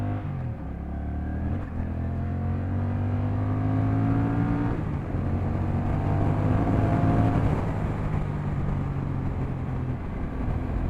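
A 2024 Honda Rebel 1100 motorcycle accelerating onto a highway, its engine droning steadily with rising harmonic tones as it pulls through the gears, loud and close with wind noise throughout.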